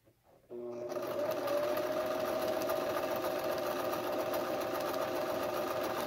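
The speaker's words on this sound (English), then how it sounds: "it's my sewing machine." A sewing machine starts up and runs at a steady, rapid mechanical rattle, continuous and close, sewing a hem on a cloth face mask.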